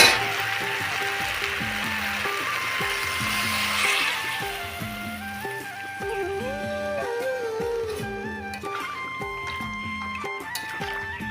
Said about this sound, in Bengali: আর এদিকে সম্পূর্ণ সবজি আমি একদম কষিয়ে নিব।